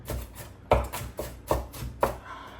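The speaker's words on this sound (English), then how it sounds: "A little bit of chopping, just getting a little bit smaller" Several sharp knife chops on a cutting board, about five evenly spaced thuds, close and distinct with no talking.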